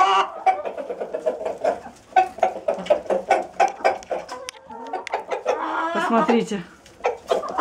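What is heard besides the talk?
rooster calling hens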